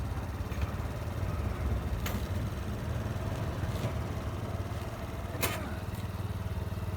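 A Kymco Agility scooter fires up and settles into a low, steady putter outdoors in a parking area, with faint clicks and a few sharp transient taps over the continuous engine rumble.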